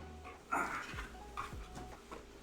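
A pet dog, a male, makes faint panting and soft whimpering noises with a few light snuffles and movements, heard close but quiet indoors.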